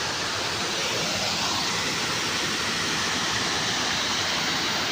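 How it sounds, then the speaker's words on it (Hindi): Giridibandha waterfall in Keonjhar roars as a steady, dense wash of falling water, unbroken and even throughout, with no voices. "ये हूँ गिरिडीबंध वाटरफॉल"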